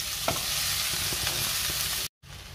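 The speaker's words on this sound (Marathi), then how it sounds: "कैरीचा किस आपल्याला तुपावरती 2 मिनिटं परतून घ्यायचा आहे" Grated raw mango sautés in hot ghee with cloves and cinnamon, giving a close, steady sizzle. A few soft stirring scrapes cut through, and the sound drops out briefly near the end.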